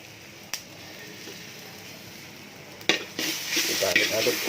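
Fried noodles with egg and sweet soy sauce sizzle softly in a pan while a utensil scrapes and clacks against the metal, the stirring growing louder and busier toward the end.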